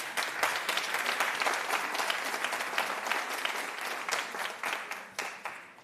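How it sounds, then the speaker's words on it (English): An audience at a research careers conference applauds with sustained, dense clapping that tapers slightly toward the end, moderately distant with no clear talking. "Let's one last applause."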